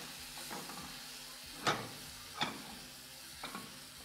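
Onions fry gently in oil and butter with a faint, steady sizzle, broken by a few soft utensil taps against the pan.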